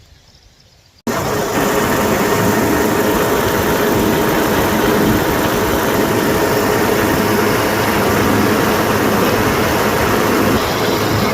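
A lawn mower engine runs loud and close, breaking in abruptly after a quiet second and then holding a steady, rough drone throughout.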